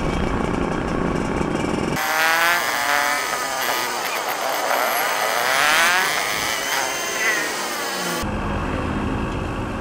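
A Yamaha RXT 135 and a Raider FI race over 500 metres, their engines revving hard and buzzing, climbing and falling in pitch for about six seconds before cutting off abruptly; no talking.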